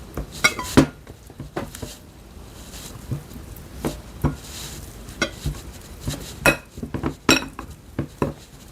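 A potato masher presses hot microwaved potatoes in a bowl, giving irregular knocks, clinks and scrapes of the tool against the dish, some sharp and close, with short pauses between presses.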